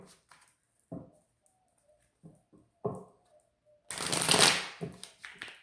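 A tarot deck being shuffled up close: scattered soft card flicks and taps, then a denser, louder burst of riffling toward the end, with near-silence between.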